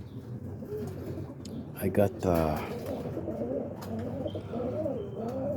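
Boston ripping roller pigeons cooing in a loft, soft throaty coos rising and falling close by while someone speaks briefly over them.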